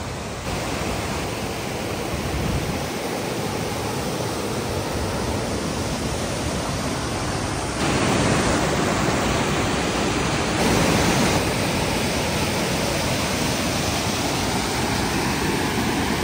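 Elaneeru waterfall in Chikmagalur pours in a dense, constant roar of falling water, close and loud with no other sounds.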